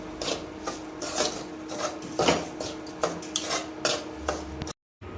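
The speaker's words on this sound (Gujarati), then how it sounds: "તો ધીમો ગેસ રાખીને આપણે રવો શેકી લઈશું." Semolina being stirred as it roasts in a pan over a low gas flame, steady scraping and clinking strokes of a spoon against the metal, close and moderately loud with no talking, ending in a brief silence.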